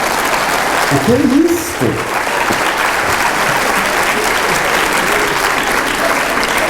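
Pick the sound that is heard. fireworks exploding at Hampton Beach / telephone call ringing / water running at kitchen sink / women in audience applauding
women in audience applauding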